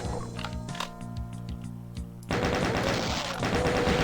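Rapid automatic gunfire from chaingunner enemies in Doom, on the opening map Arrival, crackles loud and dense, swelling abruptly into a sustained burst of overlapping shots over in-game music.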